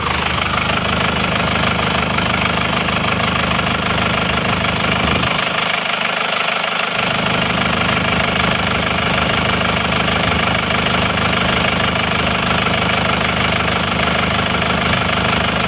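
An Isuzu Panther diesel engine that blows smoke from the oil filler idles loudly and close, with a constant dense rattling knock and steady vibration, briefly dipping in the low rumble midway.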